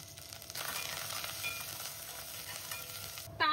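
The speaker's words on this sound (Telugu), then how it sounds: "తాలింపు ఫ్రై అయింది కదా." A tempering of mustard seeds, cumin, dried red chilli pieces, garlic and curry leaves sizzles steadily in hot oil, a quiet continuous crackle with faint stirring, ending in a brief louder clatter.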